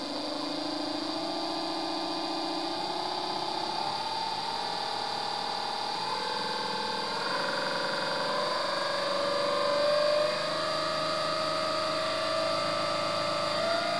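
A refrigerator compressor converted into an electric generator runs steadily, giving a continuous mechanical whine with shifting tonal hum and vibration that rises slightly in pitch midway, fairly close and alone without talk.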